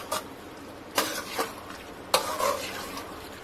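Rice mixed with rock salt stirred in a pot for biryani, a few distinct spoon scrapes and knocks against the vessel over a low steady hiss, close and alone without voices.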